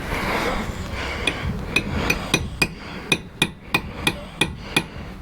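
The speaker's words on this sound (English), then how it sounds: "It says to use a rubber mallet." Sharp, evenly spaced metallic taps ring out as the skid plate tab on a Yamaha TW200 motorcycle is struck, about a dozen close-up hits quickening into a steady rhythm over a faint background hum.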